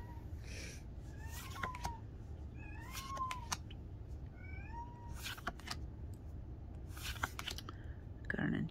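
A cat meows for attention, giving several short, rising meows spaced a second or so apart, close by. Soft shuffling and clicking of trading cards being handled comes in between.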